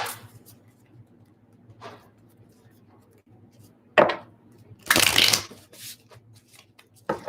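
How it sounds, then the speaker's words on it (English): Tarot cards riffled and shuffled in short bursts, with a couple of loud, close riffles separated by quieter handling and soft room hum. "Really get these shuffled."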